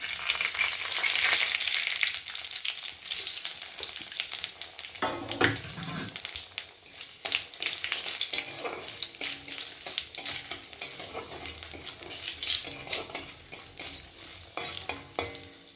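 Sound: dried chilies, bay leaves and five-spice frying in oil while stirred

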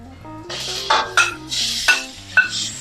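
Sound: stir-frying minced pork in a pan for Thai basil pork

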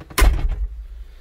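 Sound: door of an 8-ton forklift cab being shut

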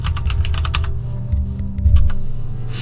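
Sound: typing on a computer keyboard

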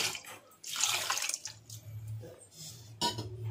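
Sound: water being poured into rajma rasam

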